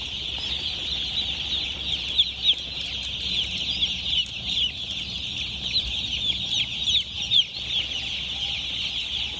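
A poultry farm shed holds thousands of newly delivered chicks, and their constant high chirping and clucking forms a busy chorus with no pause, heard from nearby.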